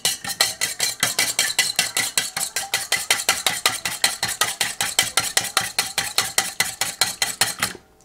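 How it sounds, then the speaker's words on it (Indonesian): Chicken feet are stirred with salt and powdered broth, a fast rhythmic run of sharp scraping clacks from a utensil against a pot or bowl, loud and close, about five strokes per second, with no talk. "Lalu kita aduk."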